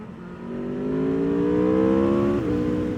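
A Street Triple or Aprilia RSV4 sport motorcycle engine revs while riding, its loud, steady tone climbing in pitch for over two seconds before a brief dip and recovery near the end, with no talking.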